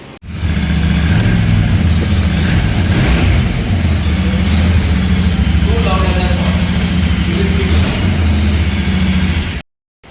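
Royal Enfield Scram 411 motorcycle's single-cylinder engine running steadily close by, a low rumbling idle with a brief throttle blip partway through; a voice talks over it, and the engine cuts off abruptly just before the end.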